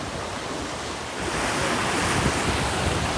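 Strong wind buffets the microphone over the steady roar of standing waves in a pass draining an atoll at Rangiroa, a broad, loud wash that swells louder after the first second with no voices.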